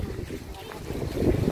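Wind buffets the microphone at a seaside beach in Lazarevskoye near Sochi, a steady low roar that swells toward the end, with no other clear sounds.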